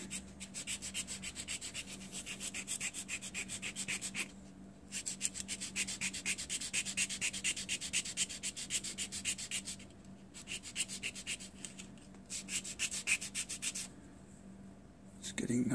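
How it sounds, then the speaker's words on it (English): Hand sanding of a thin, painted part for a Titanic wreck model diorama: steady, rhythmic rubbing strokes that are close and fairly loud, broken by a few short pauses. "So let's start sanding."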